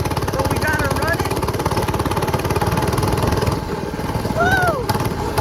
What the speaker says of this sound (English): We got the moped running in this video